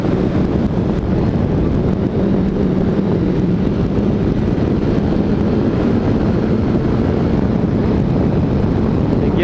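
A motorcycle's exhaust recorded by a microphone mounted at the exhaust pipe gives a loud, continuous low rumble and drone mixed with heavy wind buffeting, steady throughout.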